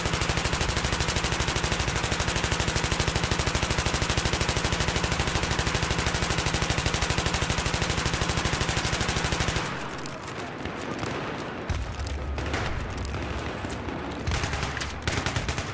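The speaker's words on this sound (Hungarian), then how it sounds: "Szerintem ennyi lövéstől már rég kisült volna egy ilyen fegyver." Sustained, loud automatic machine gun fire from Battlefield 3 runs continuously for about ten seconds, then breaks into scattered, irregular bursts and shots for the remaining seconds.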